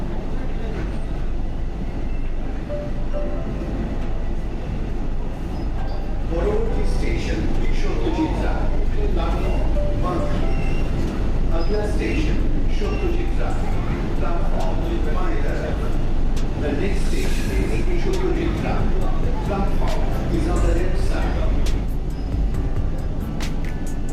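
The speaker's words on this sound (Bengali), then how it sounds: "নিউ গড়িয়া অর্থাৎ কবি সুভাষ থেকে ট্রেন ছেড়ে চলেছে সত্যজিৎ রায় স্টেশনের দিকে" A Kolkata metro train leaves Kavi Subhash (New Garia) station and rolls along, a steady rumble of wheels and carriage noise with someone talking over it for much of the ride.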